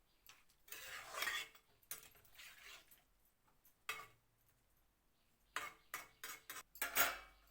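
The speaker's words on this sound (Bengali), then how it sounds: "এবার ঢাকনটা দিয়ে দিলাম" A metal lid clatters onto a cooking pot of potatoes in spiced curry, with sharp intermittent clanks and rattles separated by quiet gaps, close by.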